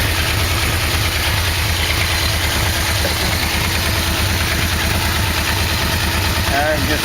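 A Yamaha VMAX motorcycle engine idles steadily after a carburetor sync, a continuous close rumble with even low pulsing and someone speaking over it.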